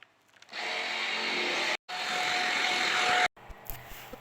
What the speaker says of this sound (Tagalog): So, vacuum tayo, guys.